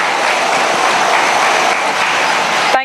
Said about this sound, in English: Please everyone give a round of applause for our lovely panel